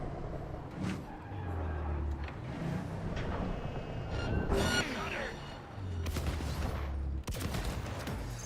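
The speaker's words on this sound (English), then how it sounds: "Of course it was going to end up in a gunfight." Gunfight in Cyberpunk 2077, scattered shots and bursts of gunfire mixed with vehicle engine rumble and skidding, with voices talking over parts of it.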